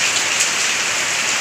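Very heavy rain pours down in a dense, loud, unbroken hiss, close and steady throughout.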